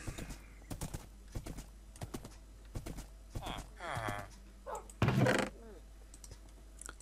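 Minecraft horse sounds, with a string of evenly spaced hoof clops, a couple of neighs and a louder snort near the end, quiet and close under brief bits of a voice.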